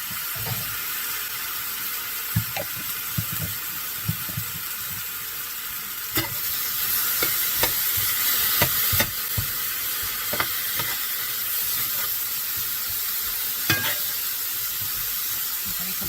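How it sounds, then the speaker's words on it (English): A large glob of garlic sizzles in a hot cast iron pan, a steady bright frying hiss with soft scattered pops and a few clinks of stirring, close and continuous throughout. "And then I'm going to do a nice large glob of garlic."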